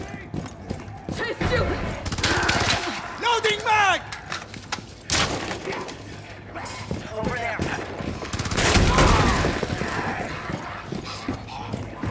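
Gunfire from Rainbow Six Siege's Outbreak zombie mode on Pandemic difficulty comes in a few loud, sharp bursts amid game noise, with voices talking throughout.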